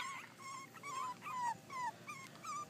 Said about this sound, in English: this is June, Eva, and Violet's litter of puppies